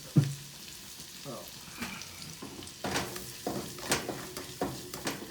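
Garlic and ginger fry with shrimp and scallion for salt and pepper shrimp: a soft sizzle broken by repeated clanks and scrapes of a utensil stirring the pan at an uneven rhythm, close by, with no voices.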